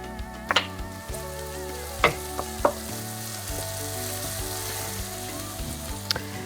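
Onions, garlic, ginger and chilies frying for a South African curry make a constant close sizzle, punctuated by a few sharp clicks and spoon knocks, with a low hum beneath.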